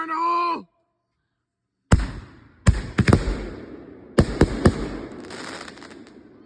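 Memorial Day fireworks go off as a string of sharp, loud bangs and crackles, a few close single pops and then a tight cluster, after a brief shouted voice and a short silence.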